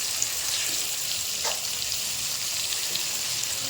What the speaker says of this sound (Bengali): ওটা ভাজা হচ্ছে।